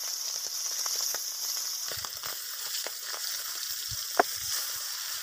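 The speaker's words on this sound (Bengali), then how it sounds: "এবার একটি কড়াইতে তেল দিয়ে তার ভিতরে আমি মাছগুলো দিয়ে দিব" Pabda fish coated in turmeric and salt fry in oil in a wok. A quiet, steady sizzle runs throughout, broken by a few small pops and crackles.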